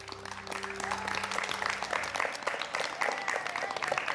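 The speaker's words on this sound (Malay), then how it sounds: "Beri tepukan untuk Adam dan Amar." An audience applauds two young contestants on a Quran recitation competition show, a dense wash of steady clapping that rises after a sustained tone fades and continues for several seconds.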